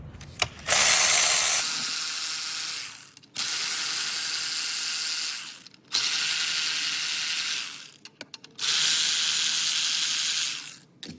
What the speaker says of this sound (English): I'll just use an electric ratchet.